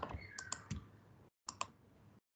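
Short bursts of computer keyboard typing while a database command is entered, a run of close clicks, a brief pause, then a few more keystrokes.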